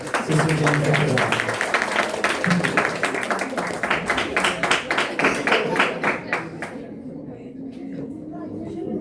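An audience at a church worship gathering claps for Sister Jennifer Shahzad in quick, rhythmic applause that stays loud for several seconds before thinning out and fading under music.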